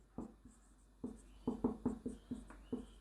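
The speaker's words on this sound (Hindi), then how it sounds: "तो हम लोग यहाँ लिखेंगे" Chalk or marker writing on a board during a maths lesson: a series of short scratchy strokes in uneven bursts, fairly close and clear, with no talking over them.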